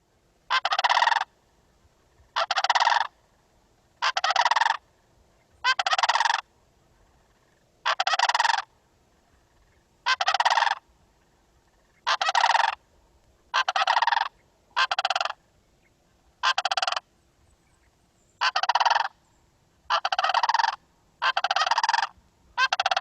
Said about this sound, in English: Sandhill crane.